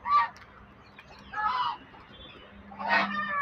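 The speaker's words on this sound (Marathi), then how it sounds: "हा राजहंस आहे" Geese at a poultry farm in Shirwal give three distinct honks, close by and spaced roughly a second or more apart.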